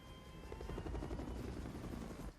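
Helicopter rotor chop with a rapid, even pulse, fairly faint and distant, holding steady throughout with no voices.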